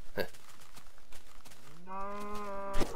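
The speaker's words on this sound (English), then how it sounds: "Got 4 cows in the pen." Cattle held in a pen, with one cow letting out a single drawn-out moo near the end, moderately close, over a low, steady background murmur.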